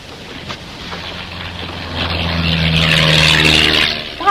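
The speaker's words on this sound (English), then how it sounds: "That plane's flying low." A low-flying propeller plane drones overhead near an island at night, its engine swelling louder as it approaches and passes close, rumbling steadily throughout.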